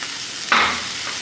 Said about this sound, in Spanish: Ahora lo que voy a hacer es le voy a agregar